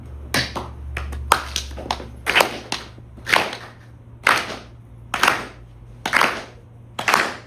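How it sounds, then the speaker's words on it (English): Sharp hand claps for kirtan ring out close and crisp in a steady, evenly spaced rhythm, mostly single claps with a few quick doubles, over a low background hum. "Now we're going to go to clapping."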